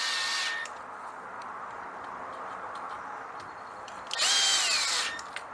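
A screw gun whirs in two short bursts, at the start and near the end, with quiet ticking in between, lightly snugging screws on a cover of a four-stroke Troy-Bilt engine leaking oil.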